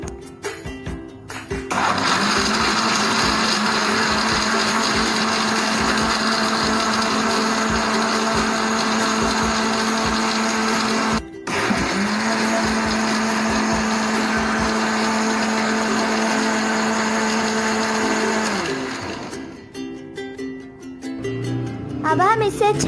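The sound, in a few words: blender grinding drink ingredients with salt and sugar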